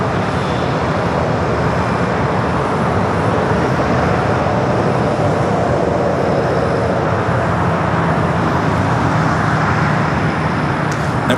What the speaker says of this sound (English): Next takeoff is a 757-300 United Flight 2268 heading to Dulles.